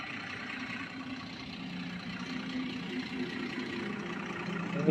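The rear-mounted engine of a Volvo 9600 bus with a Veera-built body idles in a steady, unbroken drone that stays even throughout, with no voices.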